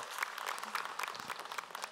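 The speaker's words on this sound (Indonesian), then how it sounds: "Tepuk tangan dong Bu." Audience of women at an Islamic majelis taklim religious talk-show taping applauding, a brief burst of quick, fairly soft clapping that stays steady for two seconds.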